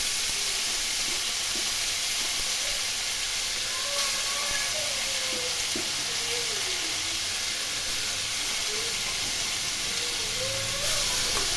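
A cumin, coriander and chilli paste sizzling in a pan for a Bengali fish curry, a steady close hiss of frying that runs unbroken throughout.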